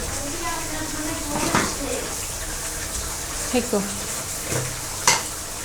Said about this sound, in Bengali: তেলাপিয়া মাছ একটু হালকা ভেজে নিব